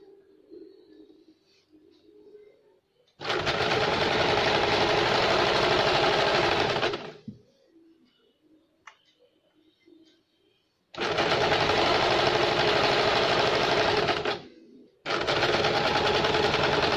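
A sewing machine runs in three long, steady, whirring stretches as it stitches the folded hem of a baby's halter-neck frock, with quiet pauses between the runs and faint background chirping.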